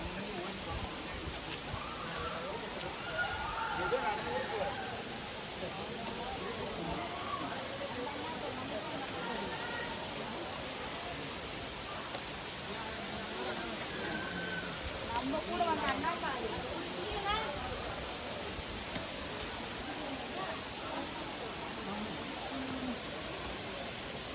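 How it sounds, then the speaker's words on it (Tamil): The Agaya Gangai waterfall in the Kolli Hills gives a steady, broad rushing roar that fills the whole stretch, with people's voices faintly heard over the falling water. "அருவி கிட்ட நெருங்கிட்டோம்"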